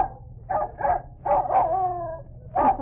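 A dog barks in about five short, sharp bursts, one trailing into a drawn-out whine, close and fairly loud over a faint background hum.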